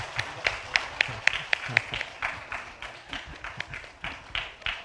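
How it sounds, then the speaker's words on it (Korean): A church congregation at a Sunday service claps in a fairly regular rhythm, moderately loud with some room echo and murmuring. "다시 한번 박수해 주시기 바랍니다"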